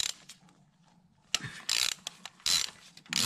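A ratchet turns counterclockwise to loosen a car's spark plug. Several close, loud bursts of rapid clicking come in short strokes with brief pauses between them, and there is no talk.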